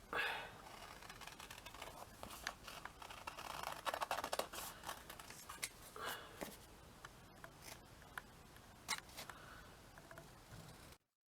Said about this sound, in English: So then what you do is you cut them out.